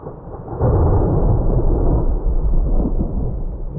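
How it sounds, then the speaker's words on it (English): Thunder from a mountain thunderstorm rolls in as a deep, loud rumble, swelling after a quiet start and holding steady for several seconds with no voices. "Thunderstorms can strike with little warning, and lightning can be deadly."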